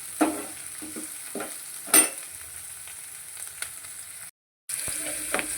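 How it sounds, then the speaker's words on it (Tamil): Green chillies and curry leaves sauté in a pan being browned, a soft sizzle with a few sharp stirring scrapes of a spoon against the pan, close and quiet, with a brief dropout. "நல்லா ப்ரௌன் ஆகிற வரைக்கும் வணக்கி எடுத்துக்கலாம்"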